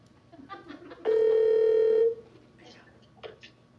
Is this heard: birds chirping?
no